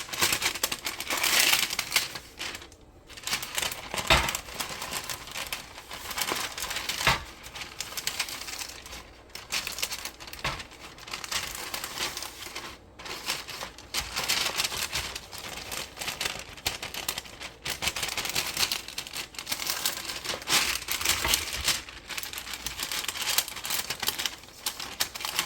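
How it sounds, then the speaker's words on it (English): Parchment paper crinkles and rustles continuously while it is pressed into a baking sheet, with sharp crackling and crumpling bursts up close. "Next, I'm going to line my baking sheet with some parchment paper."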